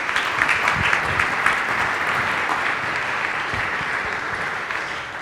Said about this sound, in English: Give a cheer for Greg Marshall of Wichita State and Dan Muller of Illinois State.